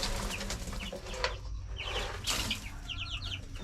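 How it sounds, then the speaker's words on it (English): Brahma mix chicks in a coop in the morning cheep in quick, high chirps, scattered and close, over a low hum with occasional rustling. "Chicks there congregated in that corner, guys."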